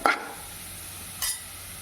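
Onions sauté in a pan for sabudana upma, a steady soft sizzle close by with two brief stirring scrapes, one at the start and one near the end, and no voices.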